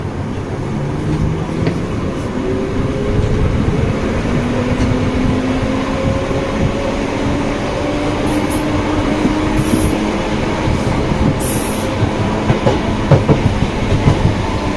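Piccadilly line London Underground train running between stations toward South Harrow, a loud, constant roar of wheels and motors inside the carriage with rumbling clatter and slowly gliding motor whine throughout.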